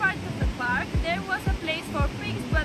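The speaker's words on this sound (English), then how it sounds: "We continued downstairs and we found the last waterfall." A waterfall in a park on Sao Miguel Island in the Azores rushes as a steady background wash, with someone talking over it and soft rhythmic thumps recurring.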